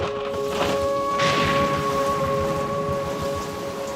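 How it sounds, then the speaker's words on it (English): A huge, earth-shattering storm with steady rain pattering on surfaces and a low rumbling undertone, continuous and fairly loud throughout, with no voices. "a huge, earth-shattering, tumultuous storm"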